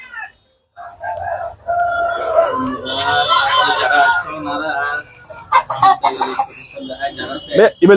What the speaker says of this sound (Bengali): black silky